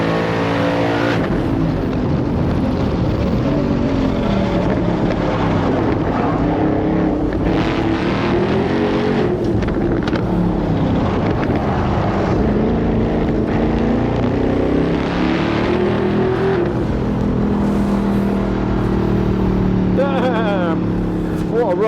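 A Volkswagen Transporter van with an Audi RS4 twin-turbo V8 making 840 horsepower accelerates hard, its loud, continuous engine roar rising in pitch through the gears, with people talking over it.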